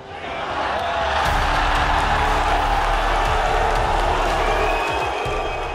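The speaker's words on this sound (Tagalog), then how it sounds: "Rinig na rinig nga mga bay ang hiyawan ng mga manunood" Boxing match crowd roaring and shouting in a big sustained swell of cheers and whoops that rises quickly and holds loud throughout.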